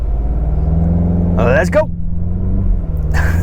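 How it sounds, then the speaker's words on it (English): A 2023 Mazda CX-50 idles with a low engine rumble, then launches hard from a brake-torque standing start on a main road as the front tires spin, heard from inside the cabin under brief talk. "the front end definitely lost traction and lit up the tires"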